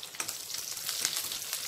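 Tempering for tomato dal sizzling in hot oil with garlic and curry leaves, a steady close crackle and hiss without pause, no voices.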